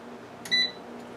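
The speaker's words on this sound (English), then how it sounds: "I'm turning the air fryer on" An air fryer being switched on gives a single short electronic beep tone at close range, followed by a faint hum.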